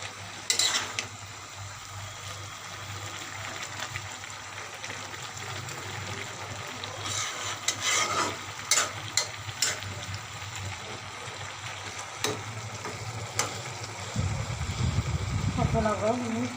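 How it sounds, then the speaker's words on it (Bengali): Fish curry with red amaranth leaves, made with soil fish, frying in a pan as it gets stirred, giving a steady sizzle and soft wet scraping that grow louder and busier toward the end. "ভালোভাবে নাড়াচাড়া দিয়ে নেব।"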